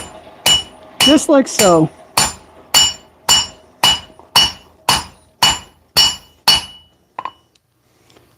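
A hammer forges the bevel of a Danish dagger blade, ringing metallic blows struck in a steady, evenly spaced series, a quick cluster of strikes near the start, loud and close, then fading into quiet; a brief spoken phrase comes early.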